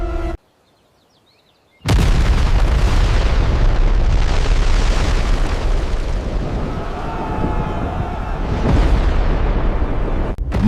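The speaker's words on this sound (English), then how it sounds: "the mountain exploded" Mount Vesuvius erupting, a huge sustained roaring blast that bursts in after a brief silence and rumbles on loudly and continuously, dense and low with a broad noisy hiss.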